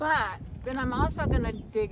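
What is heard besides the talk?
No everyday noise stands out behind the speech.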